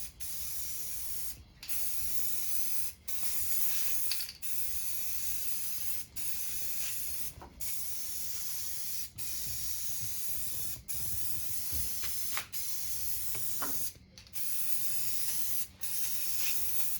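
Paint is sprayed onto a Savage .22LR single-shot rifle stock before hydro dipping, giving a steady, close hiss in repeated passes with brief regular gaps between them.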